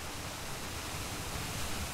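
Steady, loud roar of a waterfall in a Bamiléké valley in Cameroon, a dense unbroken wash of falling water that fills the whole clip with no break or voices.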